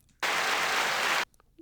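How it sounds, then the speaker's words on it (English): A single burst of applause, loud and dense, lasting about a second and then cutting off abruptly, with quiet room tone before and after. "No, that was the applause."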